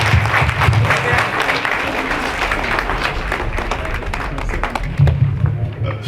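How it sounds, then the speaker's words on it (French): An audience at an end-of-year community celebration claps loudly and steadily for several seconds, a dense, close wash of applause with faint crowd murmur underneath. "Une grande acclamation pour lui"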